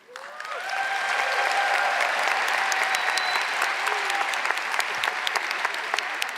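A large crowd at a Portland State University College of the Arts commencement swells into sustained applause, rising quickly and holding loud, with scattered cheers and whoops ringing out over the clapping.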